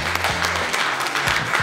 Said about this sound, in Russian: Вот ничему так не хлопали, как мангал